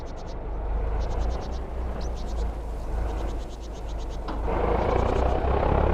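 A farm machine's engine revs up in Farming Simulator 22 while working a swath, with a steady low drone that swells louder toward the end. Repeated chirping beeps sound over it.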